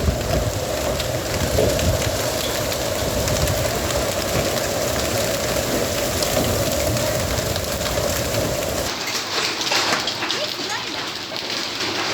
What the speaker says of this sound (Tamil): வேலூர் மாவட்டம் குடியாத்தம் மற்றும் சுற்றுவட்டார பகுதிகளில் பலத்த காற்றுடன் ஆலங்கட்டி மழை பெய்தது